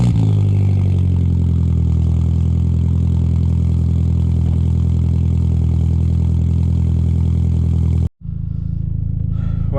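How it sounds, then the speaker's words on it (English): A Volkswagen MK4 Golf GTI with a newly fitted exhaust idles after a cold start, a loud, steady low rumble with a faint clatter, cutting out briefly near the end before the idle resumes. "Gonna do a quick cold start video now, let you guys hear what it sounds like on cold start and as it warms up."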